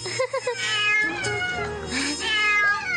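Hungry cartoon cats eat leftover sushi, letting out several close, loud meows and drawn-out yowls that overlap one another.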